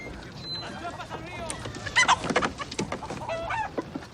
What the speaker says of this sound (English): I call this bird Arredondo